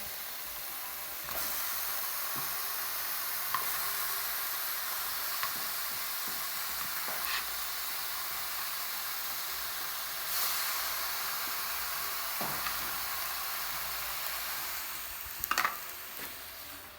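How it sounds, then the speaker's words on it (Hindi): Potatoes frying in a pan on a gas stove: a steady soft hiss and sizzle with occasional faint crackles and stirring clicks, fairly quiet and continuous, no one talking over it. "इस तरह से ना ये मैंने आलू डाल लिए हैं"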